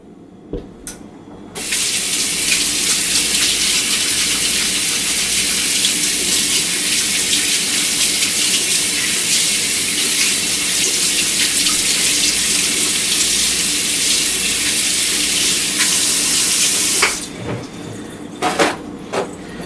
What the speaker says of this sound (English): let me give my hands another quick rinse